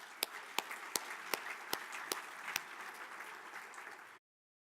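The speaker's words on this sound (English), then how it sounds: "let's give ourselves a round of applause for being hardy North Dakotans and Minnesotans" Sparse applause from a chamber audience at a cold-morning civic breakfast, about nine distinct loud claps spaced roughly evenly over a soft patter of scattered hands, then sudden silence.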